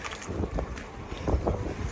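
Strong wind buffets the microphone at a Danish harbour while sailing to the island of Ærø, a loud, steady roar with gusty bursts and no speech.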